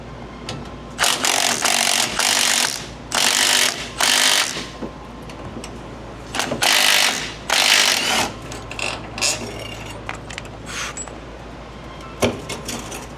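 A ratchet wrench lowers a retainer bolt on the fuel tank of a Silverado pickup, sounding in several loud, close bursts of rapid clicking separated by pauses, followed by quieter scattered clicks and knocks.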